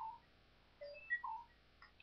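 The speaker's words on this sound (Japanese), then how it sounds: "メールの着信音です。" Email notification chime on a phone or computer: a few faint, short electronic tones spread over two seconds in a quiet room.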